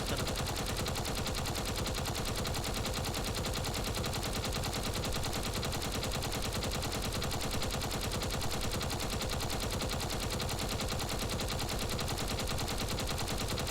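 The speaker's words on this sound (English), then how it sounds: "Cutting the ship in half with your Gatling guns." Gatling guns in a video game pour fire into a heavily armored ship, a dense, unbroken mechanical roar of rapid shots that holds at a steady, loud level throughout without pause, with no talk.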